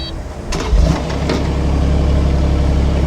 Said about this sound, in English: So we'll just start the machine up here.